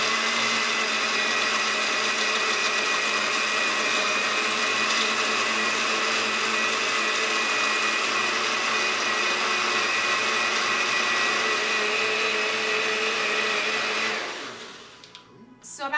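A blender runs steadily, pureeing a batter with brown sugar in a loud, continuous whir with a stable motor pitch for about fourteen seconds, then winds down and cuts off near the end.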